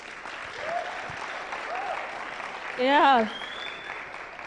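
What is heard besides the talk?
audience clapping for a graduation speaker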